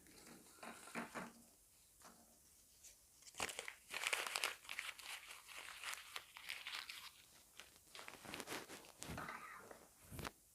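Paper used to draft a puff sleeve pattern crinkles and rustles in irregular bursts close by, with sharper crackles and soft handling noises between quieter pauses.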